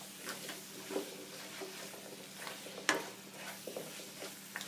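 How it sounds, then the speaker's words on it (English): Carrots fry in a pan for vegetable biryani, a soft steady sizzle with intermittent scraping and clinking as a utensil stirs them, quiet and close. "There's going to be carrots added now, and just keep stirring, and the heat should be a little higher"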